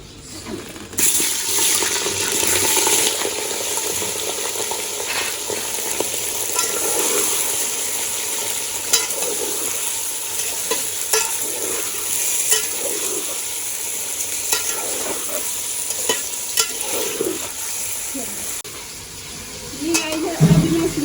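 Steady sizzling of onions frying in a pan, with occasional stirring clinks and a voice speaking Hindi now and then over the crackle.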